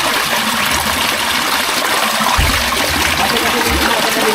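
Water flows steadily from an underground spring in a continuous, close-up rushing trickle, with a few low thumps mixed into the constant stream.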